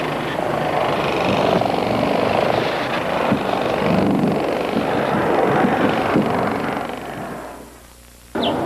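A rotary polisher with a bonnet whirs steadily, spreading KISS-COTE polymer over a finish; the continuous motor drone stays loud and close before dropping away near the end.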